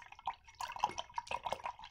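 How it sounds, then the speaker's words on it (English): A paintbrush is rinsed in a cup of water, making faint, close sloshing, dripping and splashing sounds in a quick irregular rhythm. "So I'm going to rinse my brush."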